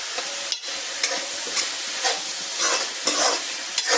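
Sliced onions sautéing with curry leaves in a pan for beef fry, a steady sizzle with repeated scraping stirs every half second or so, close and fairly loud with no talking.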